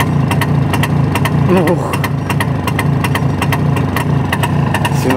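A custom-built motorcycle, the jubilee bike "Ludwig," idles with a steady, loud exhaust thump close by, the beat even and continuous throughout, while a man's brief exclamation sounds over it.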